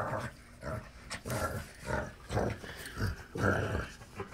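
A three-month-old hound mix puppy growls and gives short barks in a scrappy, continuous series close to the microphone, with no talking.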